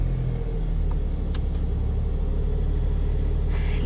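A car engine running steadily after being started, a low, constant idle rumble close by with a few faint clicks and knocks on top.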